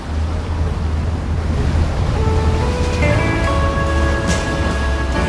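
Surf breaking on the shore at the Portuguese resort of Praia da Luz, a continuous loud wash of waves mixed with wind rumble, with faint tonal hums rising later.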